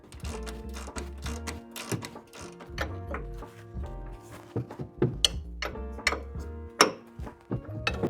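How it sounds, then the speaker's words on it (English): Upper control arm bolts loosened on a GMC 1500 truck, with close, rapid metallic clicking and ratcheting interspersed with heavier clunks and clinks of tools on the suspension. "I'm going to loosen the upper control arm bolts on both sides so I can push this up out of the way."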